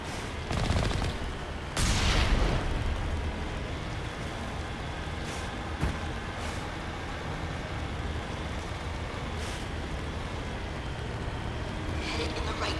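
Turret gunfire in the Mass Effect video game, a dense, continuous roar of rapid shots with occasional sharper bursts, loud and sustained throughout.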